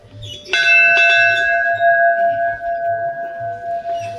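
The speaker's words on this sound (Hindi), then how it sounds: "और ये देखो कितना बड़ा सा एक घंटी है।" A large temple bell at Surkanda Devi temple, Uttarakhand, is struck once and rings out with a long, bright, shimmering sustain that slowly fades, after a faint earlier clink.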